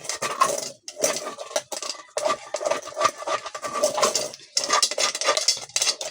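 Metal pots and utensils clatter and scrape continuously, with repeated clanks and rattles close by, like a cooking pot being scrubbed and rinsed.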